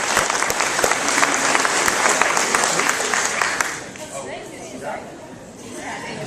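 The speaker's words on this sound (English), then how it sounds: "give a round of applause to your Bartow County Tax Commissioner candidates." Audience applause for the Bartow County Tax Commissioner candidates at a GOP debate, with dense clapping for a few seconds before it thins out and fades into a quieter room.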